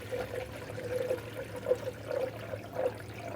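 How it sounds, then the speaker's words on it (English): Manufacturer-specified coolant pours into the radiator of a 1994-2001 Dodge Ram 1500 with a 5.2L V8, a soft, close gurgling trickle with small irregular splashes and no voices. "Now we're adding the manufacturer's specified coolant."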